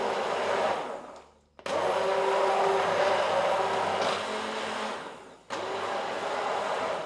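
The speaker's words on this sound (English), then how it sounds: "make sure we get all of the chunks of potato blended" A blender purees chunky potato and leek soup with a loud, steady whirring motor that cuts out briefly twice and then starts up again.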